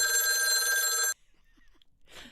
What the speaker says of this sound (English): How many of you remember having a phone that did that?